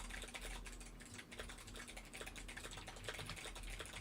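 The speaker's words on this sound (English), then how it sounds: "All I hear is keyboard clacking. Who is typing furiously?" Someone types fast on a computer keyboard, a dense run of quick clacking keystrokes heard faintly in the background for several seconds, with no talking.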